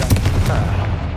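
Confringo blasting curse cast in Hogwarts Legacy, a brief loud burst of crackling, booming energy with rapid low thumps, lasting about a second.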